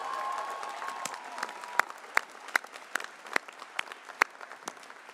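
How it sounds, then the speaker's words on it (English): Scattered audience applause at a 2025 commencement, individual sharp claps standing out over a soft crowd wash, moderately distant and thinning toward the end. "Now here you must clap."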